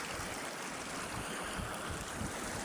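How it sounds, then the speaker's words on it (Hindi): Clear spring water welling up from the ground at two spots, giving a steady, broad rushing and gurgling flow that stays close and even throughout, with no voices. "देखो पानी अंदर से निकल रहा है, देखो दो जगहों से"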